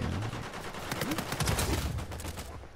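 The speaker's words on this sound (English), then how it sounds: "So this guy with an RPG, and gonna get up and shoot" Enemy gunfire in the video game Uncharted 4 crackles in a dense burst of rapid shots, fairly loud and continuous throughout, with someone talking over it.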